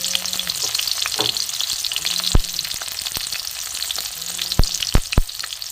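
Chopped tomato and green chillies sizzling in hot oil in a pan, a steady loud fry with occasional stirring scrapes and clinks.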